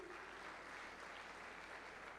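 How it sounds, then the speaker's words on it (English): Applause from an IEEE conference audience at MPCON 2025, a steady, even wash of many hands clapping at a faint, distant level without any break. "A huge round of applause once again."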